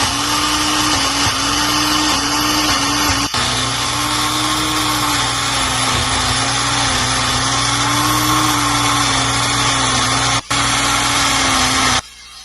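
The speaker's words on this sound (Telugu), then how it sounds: "దాన్ని ఒక మిక్సీ జార్‌లోకేసి మెత్తగా ఫైన్ పేస్ట్ లాగా మనము మిక్సీ పట్టేసుకోవాలనమాట" A mixer grinder whirs loudly and steadily at close range for about twelve seconds, grinding spinach to a fine paste, its high motor whine holding constant before cutting off abruptly at the end.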